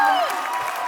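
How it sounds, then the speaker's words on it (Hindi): A television comedy show's studio audience bursts into brief applause and cheering, a short loud swell of claps fading quickly as a voice trails off over it. "सिद्धू जी के लिए जोरदार तालियां"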